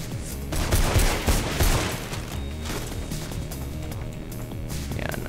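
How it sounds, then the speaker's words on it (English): Machine gun fire in the video game Mirror's Edge: dense bursts of rapid shots, loudest early on, then a steady rattling din with game sounds and no talk. "they have a goddamn machine gun"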